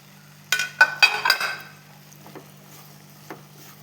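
Corn kernels being stirred with masala in a pan: a quick run of scraping, clinking strokes over a low sizzle, then quieter scattered stirs that trail off.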